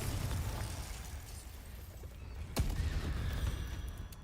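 A Confringo blasting spell in Hogwarts Legacy detonates as one sharp explosive crack partway through, set against a dense rumbling background of game effects.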